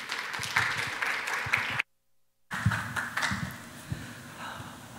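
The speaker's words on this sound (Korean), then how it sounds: "여러분 박수로 맞이해 주시기 바랍니다" An audience at a patent and IP conference applauds a speaker onto the stage with steady clapping that breaks off into a brief silence, then resumes.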